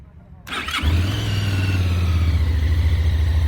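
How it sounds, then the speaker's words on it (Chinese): A QJmotor SRK 550 two-cylinder motorcycle with a 270-degree crank fires up after a brief starter whir, settling into a loud, close, steady throbbing exhaust idle that carries on alone. "我们来打着听一下声浪啊"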